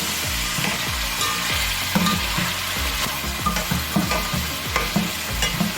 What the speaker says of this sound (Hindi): जिंजर गार्लिक के साथ अच्छे से भूनेंगे, फिर उसके बाद बाकी के स्पाइसेस ऐड करना